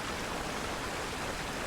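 A waterfall in Conan Exiles rushes with a steady, dense roar of falling water that stays constant throughout.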